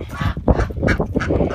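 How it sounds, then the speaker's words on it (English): Geese honk noisily in a rapid, overlapping flurry of harsh calls, close by, with several birds calling at once. "let geese out, they're just so noisy"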